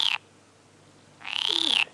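Two short, shrill trilling calls from frogs or toads, the second longer, separated by a brief quiet gap.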